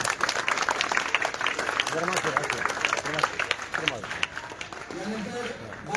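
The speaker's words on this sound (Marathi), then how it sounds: "आपल्याला थंड आणि शुद्ध पाणी प्यायचं जोरात टाळ्या वाजल्या पाहिजे" An audience at a Shiv Jayanti school function for a new RO water plant breaks into steady applause, with clapping running throughout under nearby talk.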